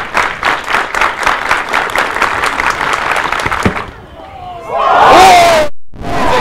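A big athletics crowd at a championship meet roars and cheers loudly after a huge jump, sustained rhythmic noise with clapping, then a brief swell of whooping and a whistle, all close and dense.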